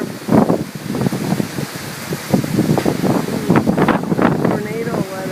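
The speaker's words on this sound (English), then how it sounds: "This is what we get in Arizona. Massive dust storms." Strong gusty wind during a massive Arizona dust storm, buffeting the microphone with loud roaring bursts and rustling debris, while a person talks over it.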